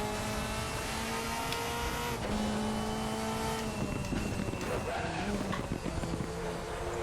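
A Mercedes AMG DTM race car in the RaceRoom racing game roars steadily at high revs, its engine note rising and shifting through gears with some tyre noise, loud and continuous with no talk.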